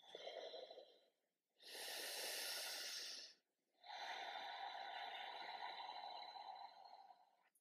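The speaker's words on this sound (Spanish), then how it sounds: "Haciendo una respiración usando el diafragma" Slow diaphragmatic breaths during a guided exercise routine: a long airy inhale, then a louder rushing exhale and another sustained breath, close and steady with no talking.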